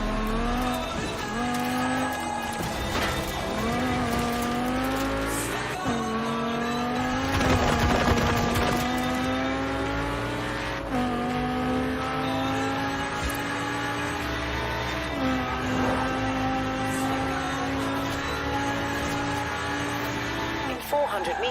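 Lamborghini Gallardo engine in Forza Horizon 4 droning steadily, its pitch climbing and dropping through gear changes, with a burst of louder noise midway and tire noise under a voice talking.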